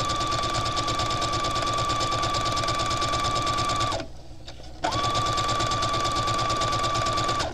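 A sewing machine stitches a fabric scrunchie, a loud steady mechanical whir with rapid needle rhythm that stops for under a second midway, then resumes at the same pace.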